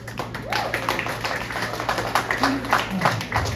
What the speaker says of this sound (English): Give you guys yourself another applause there